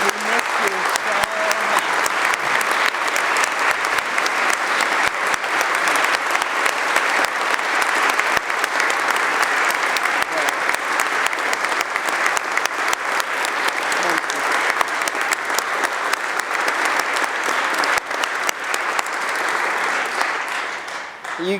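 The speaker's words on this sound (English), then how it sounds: "we deserve to give Ben another round of applause because we miss you so much" A chamber audience in the New York State Senate gives a long, steady round of applause for returning senator Ben after his recovery, dense clapping that stays loud and even from start to finish.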